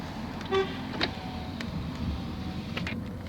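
Steady traffic rumble heard through an open window of a Citroen C5, with a short horn toot and faint clicks over the low road noise.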